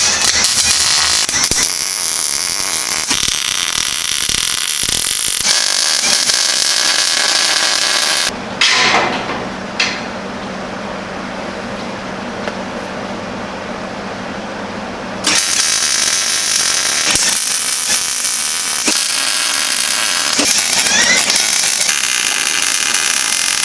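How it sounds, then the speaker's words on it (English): A grinder strips paint off a steel utility trailer ramp gate with a loud, harsh, continuous grinding roar. It cuts out in short breaks and is briefly quieter in the middle. "We got to do grind some paint off, and then we'll start welding."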